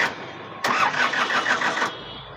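A 50 HP tractor's diesel engine cranks and catches with a sudden loud onset, running roughly for about a second before cutting off, with no talking.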